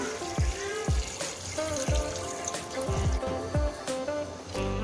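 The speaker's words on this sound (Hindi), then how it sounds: "ये हम इसमें 2 ग्लास के करीब पानी डाल रहे हैं" About two glasses of water pour into a pressure cooker holding fried onion, garlic and ginger, a steady close trickle broken by several dull knocks along the way.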